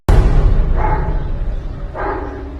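Dog barking in the action film Taken 2, two short barks under a steady low rumble and background noise, spaced about a second apart, fairly loud and close.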